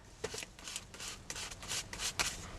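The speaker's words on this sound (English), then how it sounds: "I'm just going to scrape some colour back here" A scraper drags paint back across a mixed media card, giving a series of short, dry rasping strokes at close range, each a brief scratchy burst separated by small pauses.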